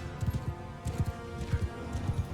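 Horse archers' hooves in Mount & Blade II Bannerlord make a quiet, irregular clip-clop of galloping horses at a moderate distance, with no talking.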